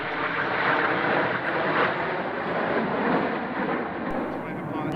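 Red Arrows jets performing the Vixen roll at the Fairford air show, a loud continuous roar of jet engines that holds steady from start to finish with no pauses.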